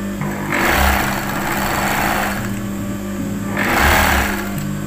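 A domestic sewing machine runs steadily in a home in an Indonesian village, its motor whirring in two louder surges with a softer stretch between, with no voices over it.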